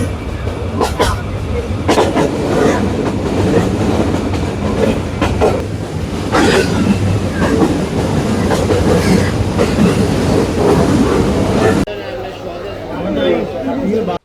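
Passenger train running on tracks between Noakhali and Sreemangal in Bangladesh, a loud steady rumble with rhythmic clickety-clack heard from inside the carriage, passengers chattering throughout, and the noise dropping near the end.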